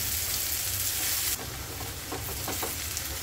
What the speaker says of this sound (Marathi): थोडंसं मीठ घालून घेते मी याच्यामध्ये, कांदा लवकर मऊ होईल